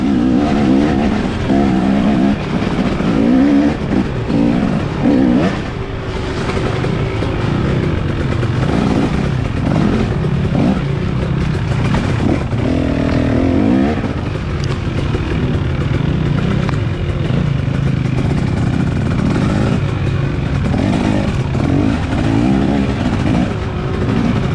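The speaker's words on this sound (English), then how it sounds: "That's Lance's brother on the big 500" A big 500 motorcycle is ridden hard on an outdoor course, its engine droning and revving continuously at close range with rising and falling pitch throughout.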